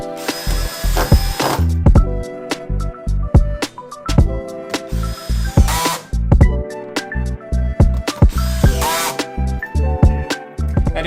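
A power drill drives screws into a Paris bedside table during assembly, giving repeated short whirring bursts with ratcheting clicks and brief pauses between them, close and loud.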